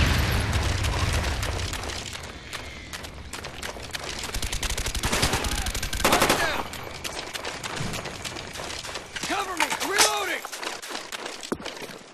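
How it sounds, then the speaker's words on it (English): Heavy battle din from Call of Duty: Black Ops, with incoming enemy mortar rounds bursting amid constant gunfire and booms in a jungle team deathmatch, loud and continuous, with voices over the fighting. "Enemy mortars coming in."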